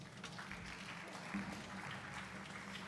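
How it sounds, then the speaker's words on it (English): Steady applause from a concert audience fills the whole stretch, an even wash of clapping heard at a moderate distance. "A round of applause for her, please."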